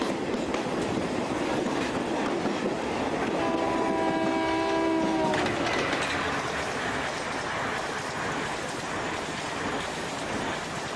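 An Indian passenger train rumbles steadily along the tracks with rhythmic clatter, and a loud horn blares for a couple of seconds partway through.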